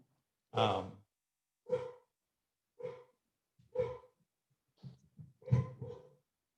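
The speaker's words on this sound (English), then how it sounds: "you can hear the dog going bananas" A dog barks excitedly in a run of six separate, muffled barks about a second apart, slightly distant, with silence between them and no talking.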